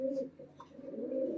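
Pigeon cooing close by, a low soft repeated coo running steadily through the brief moment with no talk over it; a white-tailed Sakdoma pigeon.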